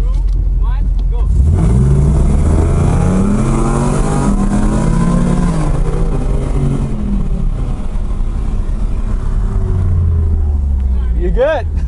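A 2019 Ford Mustang GT Premium with a new engine accelerates hard from a countdown start in a race, a loud close engine note climbing through the gears in rising sweeps, then easing off.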